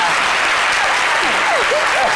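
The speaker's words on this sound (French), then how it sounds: "Le public applaudit." A live audience applauds steadily with dense, sustained clapping throughout, with faint cheering voices rising above it.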